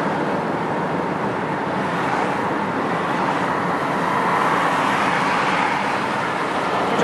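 A car cruising south on Route 128 highway out of Gloucester, Massachusetts, a steady loud broadband road and tyre roar with engine hum, unbroken throughout and no talking.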